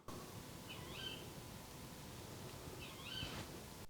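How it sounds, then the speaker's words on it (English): Two owl calls ring out at night on a house's driveway, each a brief high hooting or screeching phrase about two seconds apart, moderately close over a steady background hiss. "Yeah, it's an owl."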